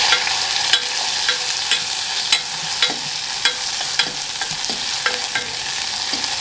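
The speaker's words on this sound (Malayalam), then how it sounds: "ഈ അരിഞ്ഞു വെച്ച സവാള ഇട്ടു." Chopped onions frying in a pan with curry leaves, a steady close sizzle with light scraping stirs at a regular pace.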